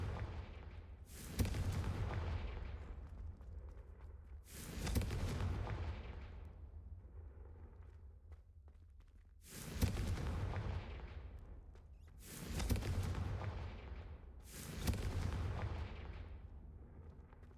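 Explosive spell blasts in the Hogwarts Legacy video game, five heavy booms at uneven intervals, each a sharp crack followed by a rumbling decay, with quieter ambient noise between them.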